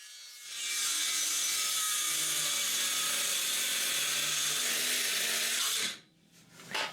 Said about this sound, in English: All that's left to do is to cut the wood.